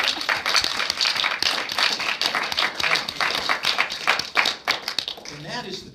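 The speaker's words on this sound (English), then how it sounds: "A round of applause for both of" Audience applauding at a magic presentation on medical jurisprudence and ethics, a dense round of claps running steadily, with a voice talking over it near the end.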